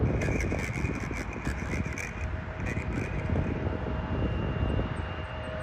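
A Delta Connection CRJ jet at Toronto airport, its engine roar a broad, steady wash with a faint whine on top, heard from a spotting position without talk.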